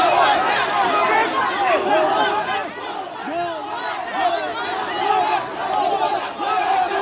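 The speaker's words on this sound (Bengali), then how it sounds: "তাকে গো ব্যাক স্লোগান দেওয়া হচ্ছে" Crowd at a protest in Shyambazar chanting "go back" slogans at an arriving figure, a dense mass of overlapping shouting voices rising and falling continuously, loud and close throughout.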